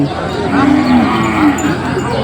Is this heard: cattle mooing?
yes